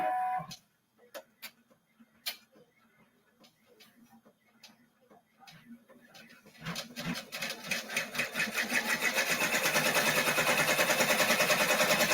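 An embroidery sewing machine stitching a tree skirt, with scattered ticks and clicks at first, then a needle run that speeds up into a loud, rapid, steady mechanical chatter close by.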